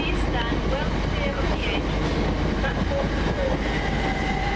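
A British Rail Class 379 electric multiple unit runs an empty stock move through a London-area station, a loud, steady roar of wheels and motors with faint rail squeals throughout, close by.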